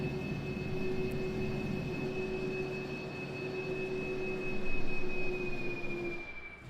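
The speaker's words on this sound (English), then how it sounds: "Make sure my engine sounds are in the cockpit view here." Steady jet engine whine and low rumble from an SAS MD80 airliner taxiing in a flight simulator, heard from the cockpit, with a constant high tone and a mild swell in loudness near the end.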